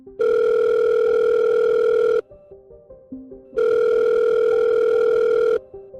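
A telephone rings for an incoming call, with two long, loud, steady electronic rings separated by a pause of about a second and a half.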